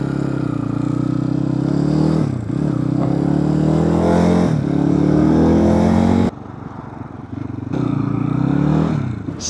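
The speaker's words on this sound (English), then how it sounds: "It's a pretty smooth bike, right?" Close onboard engine drone of a motorcycle on a ride comparing a Honda CRF250L, Lifan KPX250 and RPS Cross Country 300, steady throttle with dips between gears, plus wind rush and clatter throughout.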